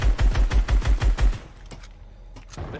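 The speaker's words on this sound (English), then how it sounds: "Why are SMGs even in the game, guys?" Submachine gun fire in Fortnite, a rapid loud burst of about eight evenly spaced shots lasting just over a second, followed by fainter scattered distant shots.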